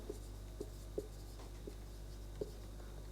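Writing on a board during a physics lesson, heard as a few faint, sparse taps and strokes over a steady background hum, with no talking.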